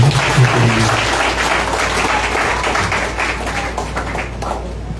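A church congregation claps steadily and loudly, a dense, continuous wash of applause that holds for several seconds before easing slightly.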